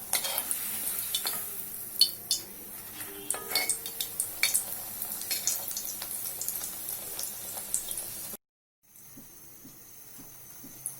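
Mug pakon pitha fry in hot oil in an iron wok, a steady close sizzle with scattered crackles and metal utensil clinks and scrapes, cutting out briefly before quieter sizzling resumes, with no talk.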